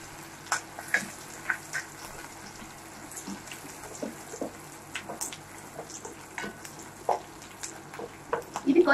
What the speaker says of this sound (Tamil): இது கொஞ்சம் நல்லா பிரவுன் கலர்ல வதங்கட்டும்